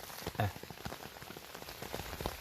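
Steady rain patters on a surface, with scattered drops tapping close by and one louder knock near the start, likely a chestnut falling; no voices.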